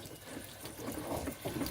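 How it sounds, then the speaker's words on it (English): Water gushes steadily from a garden hose fed by a lake pump, a constant close splashing flow with no voices. "I'm just going to flush out that line until we have nice clear water coming out."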